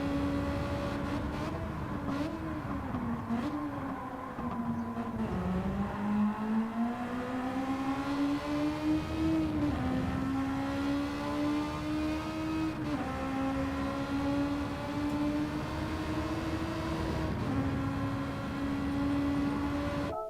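Race car engine in the video game Gran Turismo 7, loud and continuous, revving up through the gears with several distinct upshifts where the pitch drops and climbs again.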